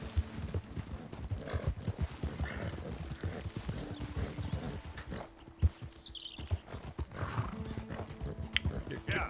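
Horse hooves clip-clopping at a walk with a brief whinny from a white Arabian horse in Red Dead Redemption 2, steady irregular thuds under someone talking over the game sounds.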